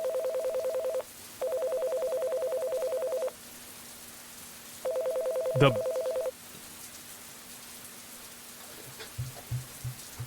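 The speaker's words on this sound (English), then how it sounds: "The phone sound is always on me." Touch-tone phone dialing in a cyberpunk video game: three bursts of steady keypad tones, the last with a sharp click, over a soft rain-like hiss with light thumps at the end.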